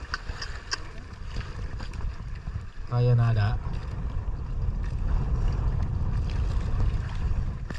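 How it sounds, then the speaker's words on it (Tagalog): Steady wind roars and buffets the microphone on open sea from a fishing boat jigging for dogtooth tuna, with a short spoken phrase partway through and a brief tonal hum. "Lumakas pala ang hangin."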